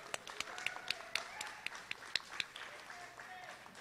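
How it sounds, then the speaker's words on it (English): A small crowd claps at a mural project event, sparse distinct hand claps in an uneven rhythm, fairly quiet and near. "Let's give Jane a round of applause, please."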